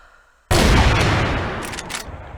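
A sniper rifle shot in the Crossfire video game during a competitive match, one sudden loud blast after near silence that rolls into a long echoing decay with some faint crackle at the tail.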